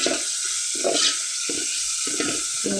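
A spoon stirs mutton curry in a hot pan, making about five scraping sweeps at an even pace over a soft, steady sizzle.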